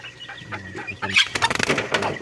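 Chickens cluck close by in a quick burst of sharp, repeated calls, following a few softer murmurs at the start.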